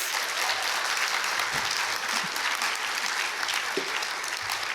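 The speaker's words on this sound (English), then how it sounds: "A round of applause for our speakers." Conference audience applauding speakers after a session of lightning talks, a dense steady wash of clapping from a large crowd filling the room throughout, with no break.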